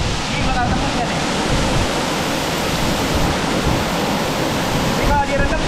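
A strong waterfall pours hard onto a waterproof jacket, a loud dense unbroken roar of rushing, splashing water filling the whole clip.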